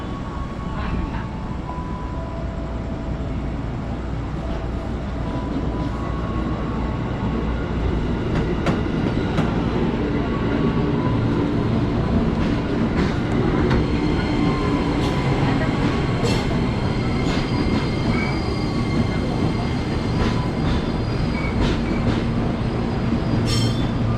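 A KRL commuter train pulls into a station, its steady rumble and rail clatter filling the whole span at a constant close level, with faint announcements and a brief murmur of voices over the top.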